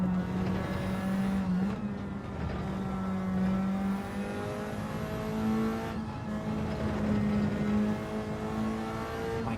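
A Group 4 race car in Gran Turismo 7 revs hard and close. The engine note climbs and drops through gear changes, with brief lifts and a faint tyre squeal.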